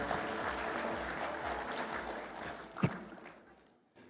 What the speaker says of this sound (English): Another round of applause for our Vice Chair.